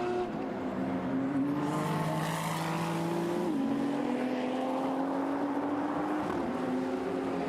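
GT race car on a qualifying lap at Okayama in Fanatec GT Asia, its engine droning loud and steady with a clear upshift midway, then pulling hard again, with no voices over it.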